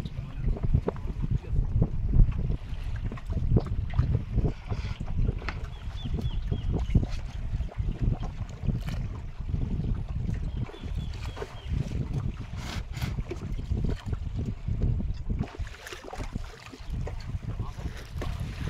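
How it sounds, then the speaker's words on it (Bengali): A fishing boat passes on the Garhal river amid steady wind and water noise, a low continuous rumble with people talking over it. "এ নৌকো চলে যাচ্ছে"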